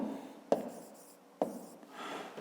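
Pen or chalk writing by hand during a maths lesson: quiet scratching strokes with two sharp taps, close and faint, no talking over it.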